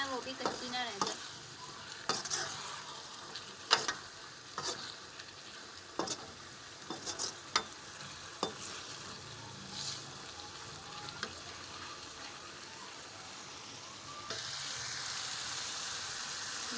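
Ginger, garlic and chillies frying in a pan, a soft continuous sizzle broken by repeated scraping stirs and clacks of a spoon, fairly faint and close, with no talk.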